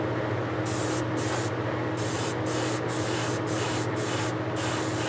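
A paint spray gun hisses steadily while coating the outside of a vehicle body, a constant close airy rush interrupted by several short bright bursts as the trigger pulses on and off.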